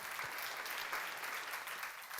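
A seminar audience claps during a sermon lecture, a dense, even burst of applause that holds steady for a couple of seconds.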